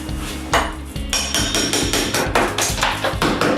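Repeated sharp hammer blows on a big cold chisel tearing out bathroom wall tile, struck in a steady rhythm, each metallic crack ringing briefly; close and loud with no voices.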